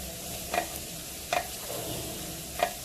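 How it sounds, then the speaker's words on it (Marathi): Two spoonfuls of ginger-garlic paste sauté over low heat in a pan for a fish curry, giving a soft steady sizzle broken by three brief scraping stirs of the spoon. "हे आता आपण गुलाबी रंग येईल इतकं परतून घेऊया"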